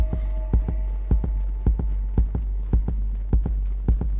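A steady thudding heartbeat effect from a bird-themed horror game, loud and close, repeating in an even rhythm of paired low beats over a continuous hum.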